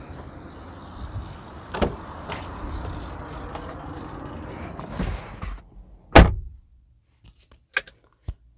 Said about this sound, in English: I will close the cover and hit the button for the trunk to close